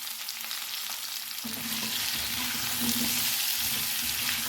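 Mixed vegetables cooking with potatoes in a pan: a soft hiss that turns to a louder, fuller sizzle partway through as food hits the heat, with some faint stirring and no speech.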